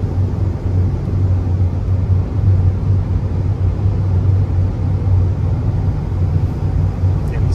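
Inside an F-550 contractor-body truck with a 7.3 gas V8 and 4.88 gears, towing about 14,000 pounds on the highway, a steady low engine drone and road rumble hold at light throttle, loud and unbroken.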